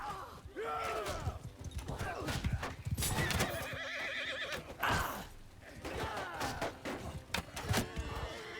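Horses in a medieval video game battle neigh and whinny repeatedly over fast clip-clopping hooves and clashing combat noise, loud and close, with a faint voice at times.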